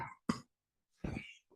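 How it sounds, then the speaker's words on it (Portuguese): Three harsh coughs, close and fairly loud, come from a person with a bad cough. A short hack is followed after a pause by a longer, rougher fit, then a faint trailing catch. "eu tô com uma tosse horrível por causa desse clima desgraçado"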